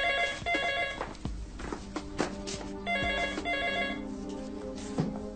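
Telephone bell ringing in a bar and grill, repeated bursts of a jangling electric bell with short pauses between rings, with faint background movement.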